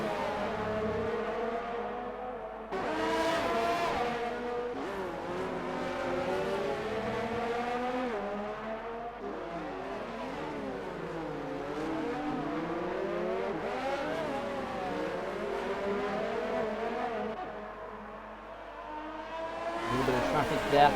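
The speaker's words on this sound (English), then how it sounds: "Dean Barry and Waddington battling going up the hill out of turn 1." Racing cars battle uphill out of turn 1 at Monaco in an X1RL race: the engines whine and rev loudly and continuously, rising and falling in pitch as the cars pass, with commentary talk running over them.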